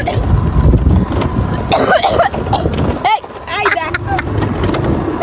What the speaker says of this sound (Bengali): অনেক জোরে কাশি পেয়েছে।